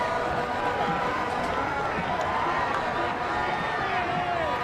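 A high school football crowd at a SHS vs Lakeside game rises to its feet, producing a steady, dense roar of distant cheering and babble that holds without a break throughout.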